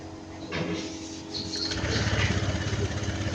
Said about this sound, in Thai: ติดเครื่อง